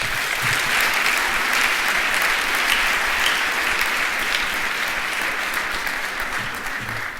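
A school crowd at a Veterans Day ceremony gives a steady, full round of applause for a student speaker, a continuous wash of clapping that eases slightly in the last seconds.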